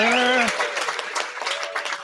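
Audience applause and cheering for a contestant named Tracy on an applause-o-meter, loud and dense, rising just after a brief voice at the start.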